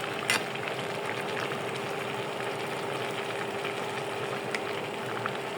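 Khichuri cooking in a large wok, giving a steady low bubbling sizzle with a faint constant hum and a few small clinks, continuous and fairly quiet.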